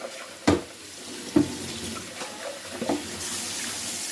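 A water filter jug is rinsed under a running kitchen tap: a continuous wash of water with several knocks and clunks of the plastic jug against the sink, heard close and without talk.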